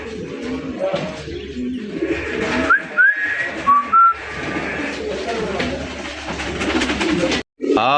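A male fancy racer pigeon with red coloring coos and gives a few short whistly notes while people keep talking nearby.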